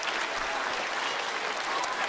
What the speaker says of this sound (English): let's give Miss Nelson a round of applause for all the work that she does